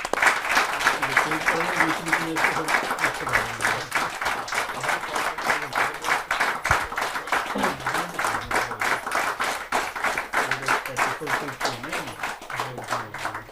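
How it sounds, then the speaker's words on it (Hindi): A crowd at a Hindi poetry gathering claps steadily to welcome a poet. The brisk, even applause keeps going without a break, and voices murmur faintly beneath it. "आइए जोरदार तालियों से उनका स्वागत करते हैं।"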